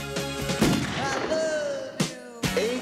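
AK-47 gunfire in the Jackie Brown (1997) film trailer, with several sharp, loud shots punctuating a music and effects mix, spaced irregularly across the clip.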